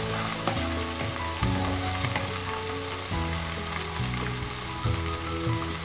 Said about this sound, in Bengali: তো আদাটাকে ভালো মতো ভেজে নিতে হবে।